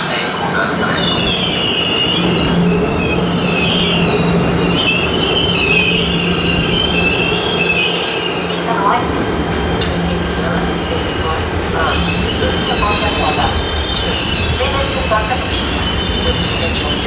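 An ÖBB Eurocity train hauled by an ÖBB 1216 Taurus locomotive pulls into a platform at Verona Porta Nuova, with loud continuous rumble and wheel squeal carrying on throughout, close by.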